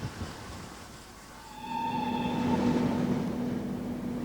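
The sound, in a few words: miniature railway train running, Buxton Model Engineer Society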